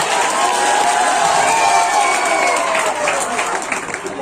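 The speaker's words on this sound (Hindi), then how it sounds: "तालियां बजाइए" Students and staff at an inter college election result announcement break into sustained applause mixed with crowd cheering, loud and continuous across the hall, with some voices shouting amid the clapping.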